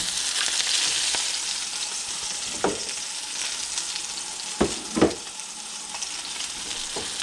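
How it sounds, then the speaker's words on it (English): Salmon fillet seared in very hot oil in a pan, a steady bright sizzle throughout with a few sharp pops and crackles, close and loud, no talking. "we're going to take the salmon and just gently place it in the pan away from you"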